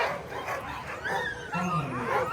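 Sled dogs yipping and barking at the start line of an open-class world championship sled dog race on a city street, a busy chorus of close and distant dogs mixed under a commentator's voice.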